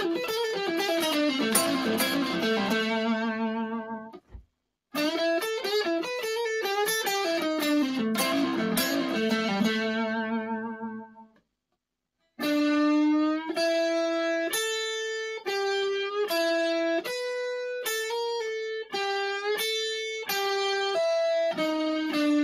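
Blues guitar solo lick on a distorted electric guitar, quick runs of bent and picked notes in bursts separated by short pauses, loud and alone with no speech.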